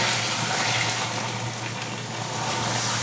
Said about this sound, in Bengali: এবার আমি এখানে জল দিয়ে দেব জল দিয়ে একটু ফুটিয়ে নেব